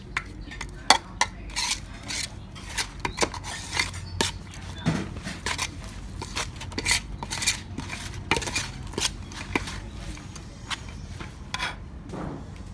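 Seasonings for a Thai rice noodle salad with mackerel being tossed and mixed in a bowl, with a steady run of close, sharp clinks and scrapes of utensils against the bowl and no talking.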